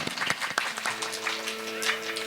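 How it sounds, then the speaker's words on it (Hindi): Clapping from an audience at a Hindu Ram Katha religious discourse in Jamui, Bihar, a brief scattered burst with tonal music or drone underneath and a voice faintly mixed in. "ताली बजाओ उनके लिए"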